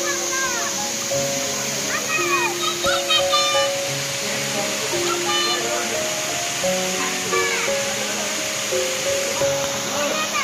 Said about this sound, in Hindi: और ये हो गया वाटरफॉल